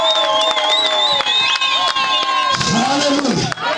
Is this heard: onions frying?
no